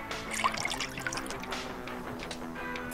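In the video game Deponia, water is poured into a tank, giving a trickling, splashing liquid sound with scattered drips, moderately quiet and continuous, without speech.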